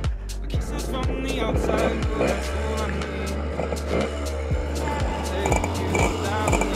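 A small two-stroke Kreidler moped engine with a baffle in the exhaust runs nearby with a buzzing, uneven idle and occasional revs, steady throughout with scattered clunks.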